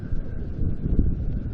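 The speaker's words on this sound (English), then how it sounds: "Sorry about the wind, guys." Wind blowing outdoors on a warm day, a steady broadband rush buffeting a nearby microphone with gusty swells and no speech.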